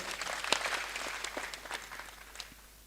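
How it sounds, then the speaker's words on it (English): Scattered audience clapping at a university convocation ceremony, a few sharp nearby claps over a soft ragged patter that thins out within a few seconds. "And please clap for yourselves, all of us"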